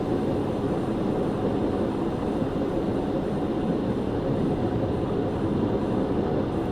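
A diesel train slows under its locomotive brake in a Diesel Railcar Simulator game, a Class 40 giving off a loud, steady low rumble and roar that runs without a break.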